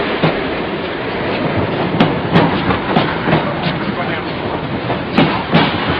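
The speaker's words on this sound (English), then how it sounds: "Train now arrives at platform 8." A train arriving at platform 8 at Watford Junction rumbles along with rhythmic clicks and clatter, continuous and moderately loud, with no one speaking.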